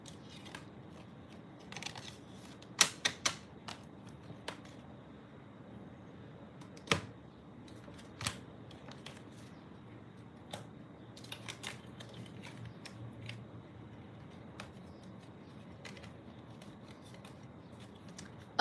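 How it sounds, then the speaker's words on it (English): Tarot cards slid and tapped back into a deck, soft scattered shuffling and a few sharper clicks, quiet and close in an otherwise still room. "let's just put these cards back in"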